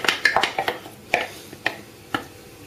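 Zucchini paste being mixed into meat in a bowl for samosa filling: a run of quick clinks and taps of utensil against the bowl, then a few sparser knocks, close and moderately loud.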